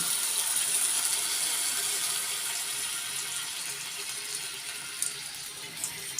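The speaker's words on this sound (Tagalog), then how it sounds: "Lagyan natin ng konting tubig." Water pours from a tap or container into ground pork cooking in a pan for a Filipino giniling dish, a steady rushing splash that gradually softens, followed by a few faint clicks near the end.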